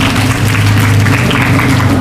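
A room of schoolchildren at a morning motivation assembly claps loudly and steadily, a dense, even patter of many small hands with no gaps.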